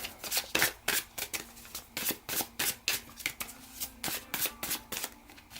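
Rapid, rhythmic riffle of tarot cards being shuffled repeatedly, close by, in regular bursts with short pauses between them.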